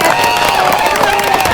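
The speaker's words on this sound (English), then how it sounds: "round of applause" A women's day crowd at Augusta claps and cheers in a steady, dense wash of applause at close range, with no gaps.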